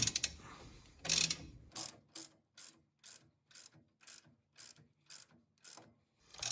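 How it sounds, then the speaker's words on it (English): A socket wrench ratchets a bolt into wood on an F-150 in a steady series of short clicking bursts, each pull a quick run of clicks with brief pauses between, close and clear. "attach our wrench here, put the socket, and start driving the bolt forward"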